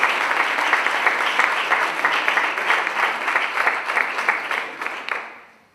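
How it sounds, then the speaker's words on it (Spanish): Sustained applause from a panel audience, dense steady clapping throughout that fades out at the end. "Les pido un fuerte aplauso"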